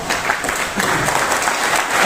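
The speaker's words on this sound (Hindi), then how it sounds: "सब दिल से बजा दो एक बार" A crowd at a motivational speaking event breaks into hearty, loud applause, a brief burst of dense clapping held steady for about two seconds.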